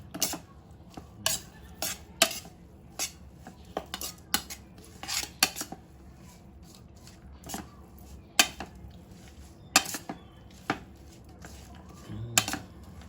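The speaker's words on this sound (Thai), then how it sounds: "เสร็จแล้วก็คนให้เข้ากัน" Clinking of utensils against a bowl while stirring a Thai rice noodle salad with mackerel and lime, irregular sharp taps and scrapes at close range, with brief quiet talk.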